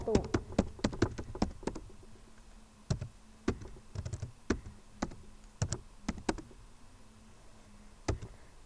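Fingers type on a computer keyboard in irregular bursts of crisp, close key taps, with short pauses between runs of keystrokes.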